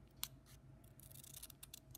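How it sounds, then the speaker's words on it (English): Scissors snip through paper in a run of short, quick cuts, heard close and quiet while a small LEGO minidoll cape is trimmed. "you can cut some of the paper out right here"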